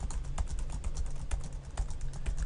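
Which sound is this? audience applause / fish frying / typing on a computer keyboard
typing on a computer keyboard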